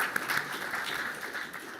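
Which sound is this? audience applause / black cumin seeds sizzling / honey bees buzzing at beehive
audience applause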